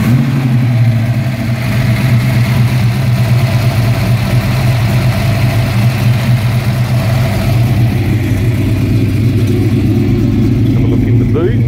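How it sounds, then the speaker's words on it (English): A 1971 Ford XY GT Falcon replica engine runs at a steady, throbbing idle close by, its low rumble continuous throughout. "we'll just start her up and see how she sounds"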